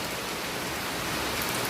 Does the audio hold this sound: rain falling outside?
yes